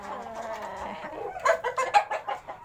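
Chickens in a small coop on a third-floor rooftop garden, a few soft clucks early, then a run of louder, choppy clucking bursts close by.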